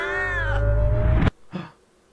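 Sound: cat Mr. Meowgi meowing in video game Three Dead Zed

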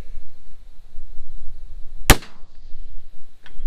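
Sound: rifle shot fired at 500 meters

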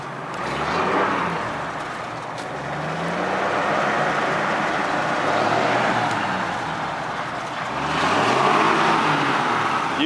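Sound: 1958 Ford F100 pickup engine revving with gas

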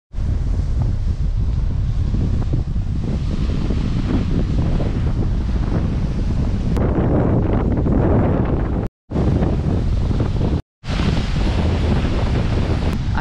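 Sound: strong sea wind and big waves at the beach

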